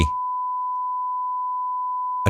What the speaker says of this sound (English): tone playing away quite happily